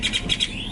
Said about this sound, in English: Whoa, did you hear that bird?